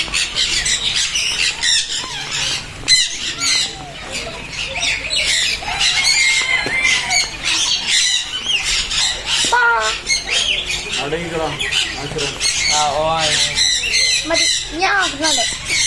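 A parrot squawks loudly and repeatedly in shrill, harsh bursts close by, with people talking underneath.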